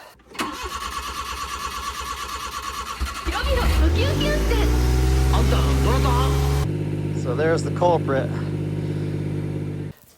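A small Japanese kei truck engine, recently fixed after a fuel pump fault, cranks over and catches, then runs at a steady idle, loud and close, with someone speaking briefly over it.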